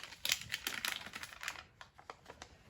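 Softened half stick of butter being sliced with a knife, giving a run of soft, close clicks and taps that fade into sparser light knocks.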